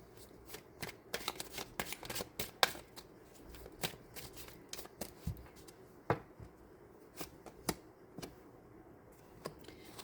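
Tarot cards are shuffled close up in a steady stream of crisp riffling snaps and flutters, alone with no talk.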